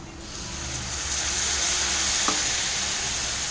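Spices cook in a pan for a dhaba-style egg masala curry after a splash of water goes in, producing a loud, close, continuous hissing sizzle that swells and holds steady, with one brief clink partway through.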